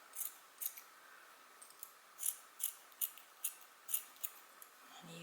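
Scissors snip about a dozen times in a loose, steady rhythm, trimming a yarn pom-pom close by, the crisp cuts standing out over a faint background hush.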